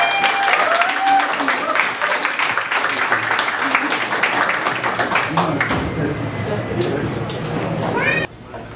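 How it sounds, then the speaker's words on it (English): Party guests clap and cheer for the birthday girl's father, a dense burst of applause with voices and children's shouts mixed in, thinning toward the end. "Let's have a big round of applause for him"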